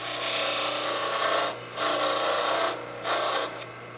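Wood lathe spinning a small turned Christmas tree decoration while a tool cuts notches into it, a rough scraping hiss in three long bursts separated by brief pauses.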